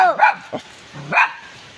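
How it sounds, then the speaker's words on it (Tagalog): A dog barks sharply a few times, close by, with short yips and pauses between barks. "Napakadami pong aso ninyo."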